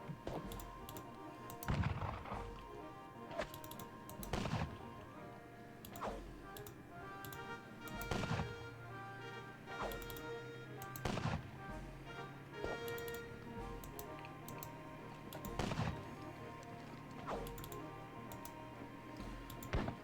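Sporadic musket volleys from skirmishers in a Battle of Borodino wargame, sharp cracks scattered every few seconds over a steady background of game music and ambience.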